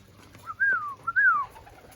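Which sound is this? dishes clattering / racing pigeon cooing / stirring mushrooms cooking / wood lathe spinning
racing pigeon cooing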